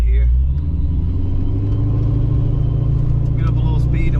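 A Carbon Fox car, an AOD automatic transmission, picks up speed on a small test road, its engine a loud, steady low rumble that holds throughout with slight swells.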